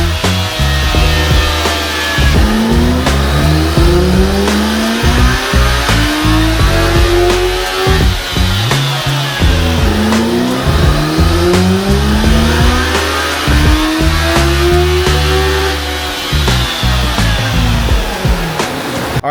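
A 2023 Kawasaki ZX-14R motorcycle on a dyno baseline run, its engine repeatedly revving up through rising, whining sweeps and dropping back, loud and close, with no talking.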